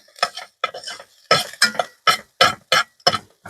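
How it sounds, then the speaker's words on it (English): Onion and garlic are stirred in a metal camping pot, a spoon scraping and clinking against the sides in about ten quick, evenly spaced strokes, close and clear with no talking. "put your garlic in there. Give that a little stir."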